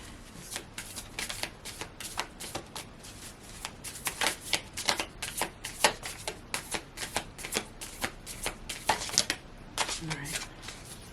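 Oracle cards are shuffled by hand during a card reading, giving a steady run of crisp, close riffling and flicking bursts that repeats throughout with no speech.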